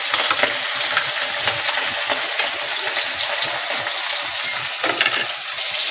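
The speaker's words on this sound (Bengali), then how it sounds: "এবার মাছগুলো আমি একটু লাল লাল করে ভেজে নেব।" Pieces of rohu fish fry in hot oil, a loud, dense, continuous sizzle with crackling spatter throughout and no talk.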